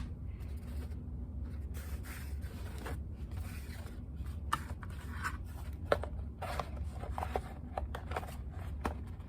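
Scissors snipping and crunching through cardboard in irregular short cuts over a steady low hum, close and fairly quiet.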